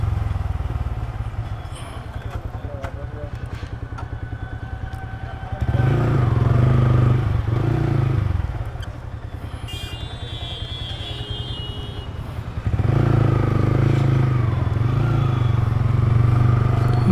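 A motorbike rides through jammed traffic, its engine droning steadily and swelling louder in two bursts of revving as the rider turns back; passing vehicles add faint high whines and clatter.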